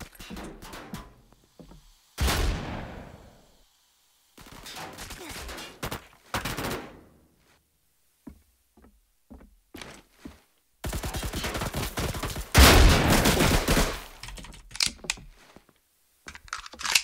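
Pistol shots in the Roblox Siege shooter game, loud single cracks and short clusters separated by near-silent pauses, with a heavier burst of fire later on.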